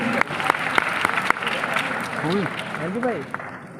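An audience applauds a woman wrestler and gold medalist at an award ceremony, with steady crowd clapping, a few sharper claps standing out and a voice speaking over it.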